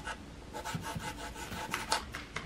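A serrated knife sawing through an Oreo gingerbread house, giving a steady, quiet, scratchy rasp with repeated back-and-forth strokes close up and no talking.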